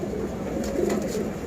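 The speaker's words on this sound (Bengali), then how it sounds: "এইটা আমার খুবই পছন্দের একটা কবুতর" A silver pigeon coos softly in a low, murmuring burst, close by, with a faint steady background hum.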